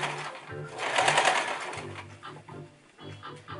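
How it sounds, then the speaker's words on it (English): A sewing machine stitches along a folded shirt edge in short, quiet bursts of rapid needle chatter, with brief pauses between runs. "See, I'm sewing it."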